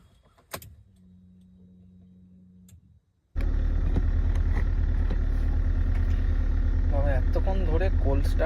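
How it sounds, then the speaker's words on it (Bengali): A car engine idles steadily through a winter cold start, loud and continuous after an abrupt onset following a quiet stretch with a faint hum; a voice speaks over it near the end. "এতক্ষণ ধরে কোল্ড স্টার্ট হয়ে যাচ্ছে,"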